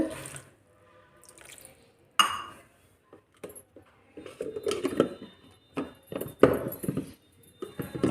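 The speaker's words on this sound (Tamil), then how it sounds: "நான் இன்னும் கொஞ்சம் தண்ணி ஊற்றிக்கிறேன் இதில்" Water poured by hand into a bowl of puttu flour, with scattered drips, trickles and small splashes coming in short uneven bursts close by, and faint clinks of utensils between them.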